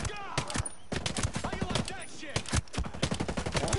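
Rapid bursts of gunfire from the video game Ghost Recon Breakpoint, dense overlapping shots and automatic fire crackling steadily throughout, loud and close, with a voice talking underneath.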